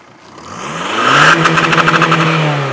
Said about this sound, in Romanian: Haide, Madie, să vedem cum se aude un diesel. Stage 3 softat